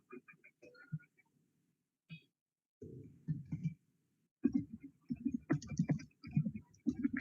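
Computer keyboard typing during a Python coding session, with soft scattered key clicks at first, then denser bursts of tapping, quiet and close.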